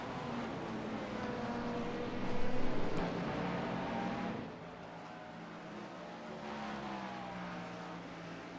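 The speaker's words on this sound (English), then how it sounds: "mostly dealing with hypercars passing us" Hypercars and race cars passing in a racing video game, continuous engine roar with rising and falling whines as cars go by, swelling briefly louder before settling.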